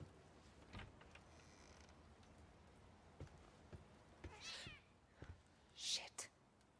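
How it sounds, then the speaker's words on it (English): A cat meows in the horror video game The Medium, with short sharp cries rising over a dim, noisy game ambience, and a few brief bursts near the end. "you didn't scare me, kitty cat"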